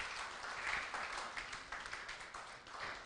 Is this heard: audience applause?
yes